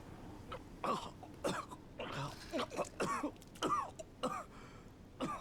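Repeated harsh coughs and throat clearing from a man in the horror video game The Evil Within, a close, rough series of hacking bursts with short gaps between them.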